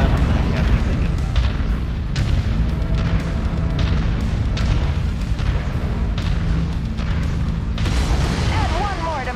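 Mech target exploding in MechWarrior 5: heavy, rumbling booms and blasts over a constant loud din of battle, with a voice talking over part of it.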